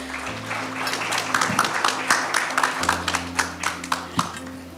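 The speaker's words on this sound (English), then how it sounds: "Can we please have a round of applause for the host?" Scattered audience clapping at a panel discussion builds into rhythmic applause with individual sharp claps standing out, over a low background hum.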